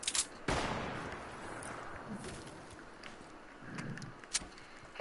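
A single sharp rifle shot cracks out in a video game firefight, followed by quieter, more distant gunfire and a couple of later pops at low overall level.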